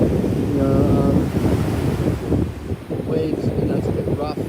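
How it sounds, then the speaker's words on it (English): Ocean waves break on a rocky beach on Maui's north coast, a loud continuous rush and roar of rough surf mixed with gusty wind buffeting the microphone, while a person talks over it. "waves, you know, it's a bit rough."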